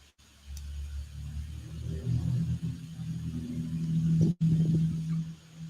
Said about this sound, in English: So you will hear diesel noises in the background every now and then.